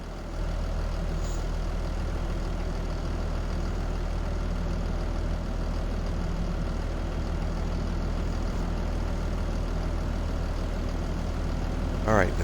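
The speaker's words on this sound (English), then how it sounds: "Alright, we're going to go ahead and hop in the tractor." A tractor engine in Farming Simulator 25 idles as a steady low drone, constant and moderately loud throughout, with a brief higher sweep near the end.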